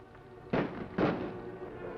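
Two sharp pistol shots about half a second apart, moderately distant and muffled, each followed by a short decay over a quiet background.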